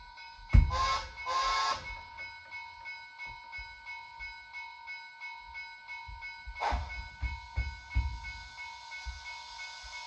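A DCC model train locomotive with a custom sound decoder creeping at its lowest speed step: a short whistle blast, a low rumbling chuff and faint rhythmic clicking, with a second whistle later, heard close and without talk.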